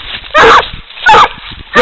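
Coon dogs barking in loud bursts, three separate volleys of rough barks about half a second apart, close and alone.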